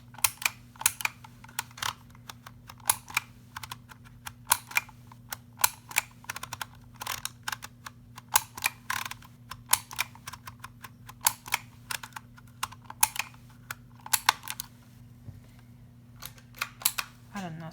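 A label maker's keys are pressed in a quick, irregular string of small plastic clicks, close and fairly faint over a low steady hum.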